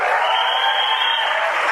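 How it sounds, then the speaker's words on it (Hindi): An audience in a hall applauds together, a steady, dense patter of many hands clapping at close range, unbroken and even throughout. "आप लोग सब अपने लिए जोरदार तालियां बजाइए"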